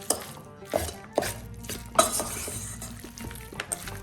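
A spoon stirs tuna brik filling in a bowl, giving soft scraping swirls punctuated by a few sharp clinks against the bowl, close and fairly quiet.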